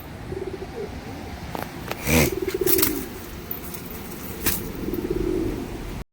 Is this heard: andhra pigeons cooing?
yes